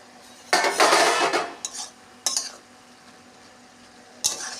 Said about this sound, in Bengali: ঢাকনাটা খুলে দিলাম